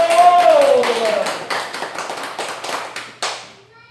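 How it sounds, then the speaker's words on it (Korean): A church congregation at a Korean worship service claps in a dense, fast burst that starts loud and slowly thins out, with a brief spoken word at the start. "박수 영광 할렐루야."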